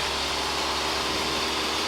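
Steady, loud, dense roar of a light aircraft engine at full throttle during a takeoff roll at North Las Vegas Airport. A constant broadband drone with no pauses and no voices.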